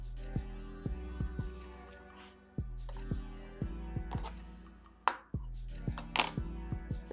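A knife cuts a lemon slice on a board for a Long Island iced tea, with a few sharp, separate cutting taps and a wet squish, heard under background music.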